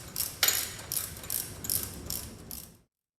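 A ratchet wrench tightening bolts on a GSXR motorcycle jig, about seven quick rhythmic ratcheting bursts of metallic clicks, close and moderately loud, ending suddenly.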